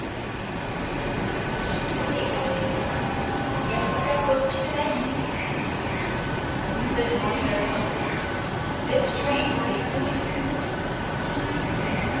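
A Yongin light rail train rumbles steadily past Everland station at close range, a continuous heavy mechanical roar with faint squeals and clatter, with no pauses throughout.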